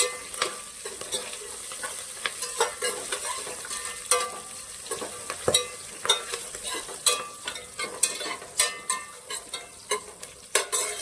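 Green chillies fry in hot oil for chicken biryani, a steady sizzle punctuated by frequent sharp clinks and scrapes of a spoon stirring the pan, close and moderately loud throughout.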